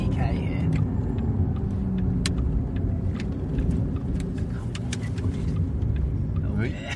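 A Porsche Taycan electric sports car driving hard with a steady low rumble and road roar, voices talking over it inside the cabin.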